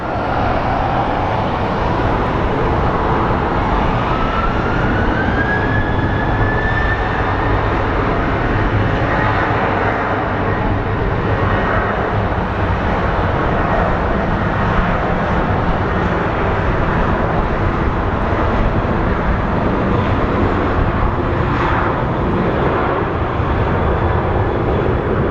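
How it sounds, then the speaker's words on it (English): A fixed-wing airliner roars steadily down the runway and takes off at Phoenix Sky Harbor International Airport, a loud continuous engine rumble with a rising whine early on, filling the whole stretch with no talk. "So let's watch this plane take off."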